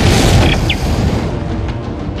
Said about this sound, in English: I'm initiating a test fire of the shuttle's engine